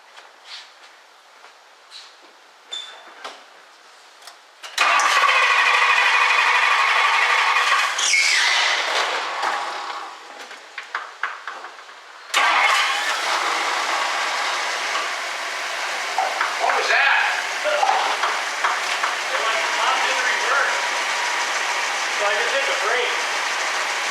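A 1964 Ford Thunderbird engine turns over and catches, then runs loud and steady with a high belt squeal over it. It dips briefly before revving back up.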